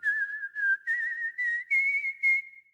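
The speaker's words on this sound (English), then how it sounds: "Then we have some whistle phrases." Whistled phrases from the Voices of Rapture vocal library, a clear pure-toned human whistle in six short connected phrases, each gently rising in pitch, close and alone.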